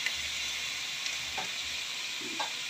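Chicken pieces frying in their own rendered fat with no added oil, giving a steady close sizzle with faint crackles and a soft stir or two, no voices.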